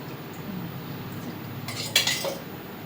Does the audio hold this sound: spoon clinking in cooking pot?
yes